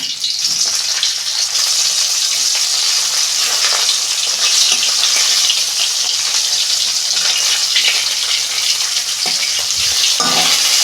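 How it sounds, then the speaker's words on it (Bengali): Pabda fish frying in a pan of oil, a steady, loud, crackling sizzle that fills the whole stretch with no one talking. "এইভাবে সব মাছগুলো ভেজে নেব"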